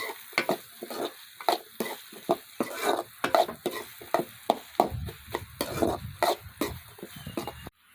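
Okra cooks in hot oil in a pan, with steady frying crackle beneath repeated stirring and scraping of a utensil against the pan, close and fairly loud throughout.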